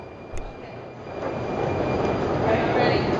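Train ride toward Prague in the Czech Republic, a steady rumbling roll that builds slightly louder over a few seconds, with a brief clack near the start and voices faint underneath.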